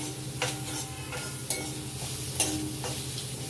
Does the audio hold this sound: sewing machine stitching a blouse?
no